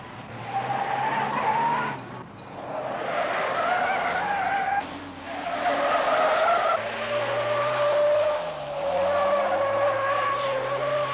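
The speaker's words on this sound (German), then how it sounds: "Auch wenn man sein Auto fährt, dass die Reifen rauchen, lässt sich der Renault 16 TA kaum umwerfen." A 1969 Renault 16 TA is driven hard, its tires squealing in long, wavering screeches over a steady engine drone, with brief gaps between bursts as the car slides through turns.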